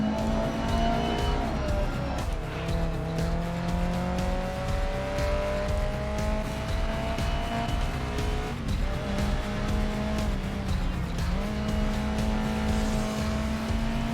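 A race car in the Grid Legends video game drives with a loud, continuous engine whine that rises and dips through gear changes, with brief tire squeal, and no talking.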